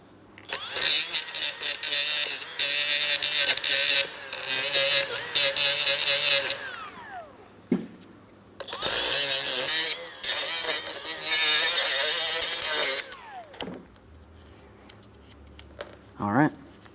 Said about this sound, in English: I'm just going to use my sanding disc here.